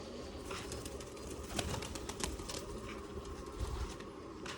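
Pigeons coo and flutter their wings on a loft during a pigeon-flying session, a soft steady bed of cooing with a few brief wingbeat bursts, fairly faint and with no talking.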